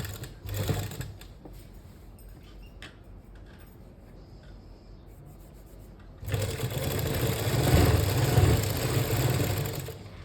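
Sewing machine stitching lace onto a folded hem, running in short bursts and then in a longer, louder continuous whir close by, with no talking.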